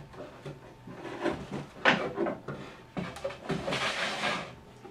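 A wooden drawer is slid and set into a homemade oak plywood filing cabinet, with close knocks and a sliding scrape, ending in a rougher rubbing rush.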